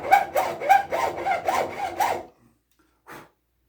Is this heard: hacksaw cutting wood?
yes